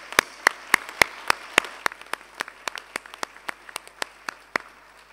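Audience applause fills a Technion honorary fellowship ceremony hall, a loose patter of distinct claps that starts strong and thins slightly over five seconds, with no talking.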